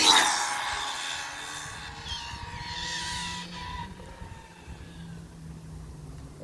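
Arrma Limitless RC car run at full throttle on a 4S battery, a rising high-pitched electric motor whine that swells and then fades as the car speeds past, with little ambient noise.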